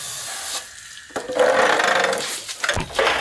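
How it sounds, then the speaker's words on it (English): Water poured through a sooty car exhaust part from an Ford AU Falcon, splashing and gurgling in short uneven bursts, close by and loud, with no talking. "I'm gonna see what sort of liquid comes out of this thing when I put some water through it first."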